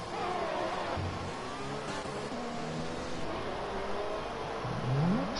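A race car engine on the Zandvoort circuit in a racing video game hums at a mid pitch and rises as it accelerates toward the end, heard fairly quietly and without talk.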